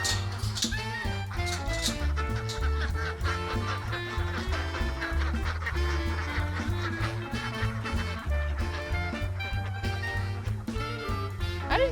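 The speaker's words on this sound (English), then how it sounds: "Those are our ducks." A flock of ducks heading home to their coop after a long day in a vineyard, quacking and honking continuously at close range throughout.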